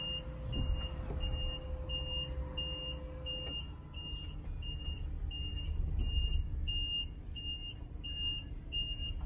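An electric Volkswagen e-Crafter van in reverse gear sounds a steady series of evenly spaced high beeps, about one per second, over a low hum and faint background rumble.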